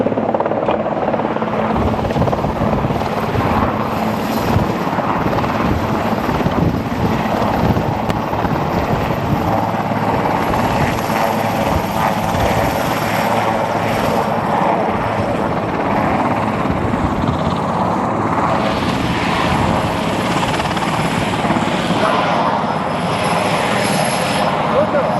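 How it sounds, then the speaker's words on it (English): A helicopter lands at the White House, its rotor and engine roaring loud and close for the whole stretch with strong rushing downwash, while people talk underneath. "We came out this side just as the chopper was landing."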